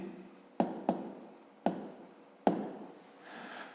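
Pen strokes on paper while working a fifth-grade math problem: four distinct taps of the tip touching down, trailed by light scratchy writing, faint and near, with a voice speaking faintly over it.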